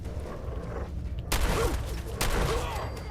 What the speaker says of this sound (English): Love this shotgun though. Has a lot of recoil to it, but it's very strong.